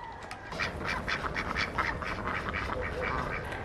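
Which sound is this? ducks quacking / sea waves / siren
ducks quacking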